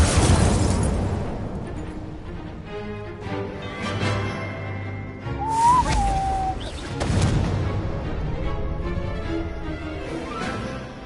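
A fire spell cast in Hogwarts Legacy bursts out with a loud whooshing blast, followed by rumbling crackle and a second surge a few seconds later, over continuous game ambience.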